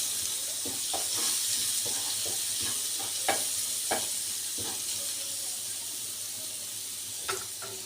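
Sauce sizzles and fries in oil in a pan for Egyptian koshari, with a spoon stirring and scraping in irregular clicks over a steady close sizzle, no talk.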